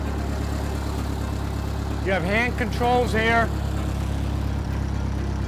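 A 1912 Mercer Raceabout engine, fired by a magneto, idles steadily in a low, even rumble beneath someone talking nearby.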